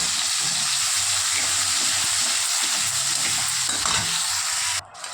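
Steady, close sizzling of grated onion in hot oil with cumin seeds, bay leaf and dried red chilli, occasional stirring scrapes beneath the hiss, then a brief dip near the end.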